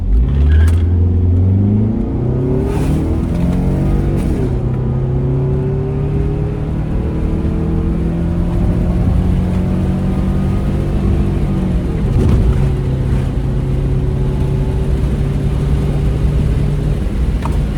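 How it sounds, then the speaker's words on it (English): A car engine roars through a hard launch, revs climbing steeply, dropping at gear shifts and climbing again, loud and continuous with no talking. "Launching car in 3, 2, 1."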